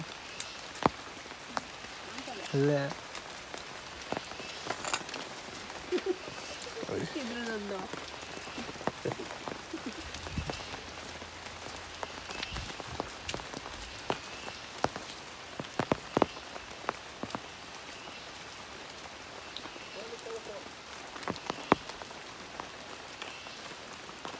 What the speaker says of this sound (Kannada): ಇಲ್ಲಂತೂ ಮಳೆಗಾಲದಲ್ಲಿ ಯಾವಾಗಲೂ ಮಳೆ ಬರ್ತಾನೆ ಇರುತ್ತೆ